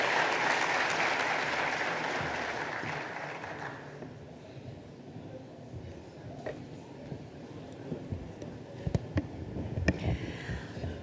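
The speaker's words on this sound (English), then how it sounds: "A round of applause for Ellen MacKenzie as she comes on the stage." A large audience at the opening ceremony of the International Conference on Family Planning 2018 applauds a speaker walking on stage. The clapping is broad and sustained, then fades to a quiet hall with a few isolated claps and knocks.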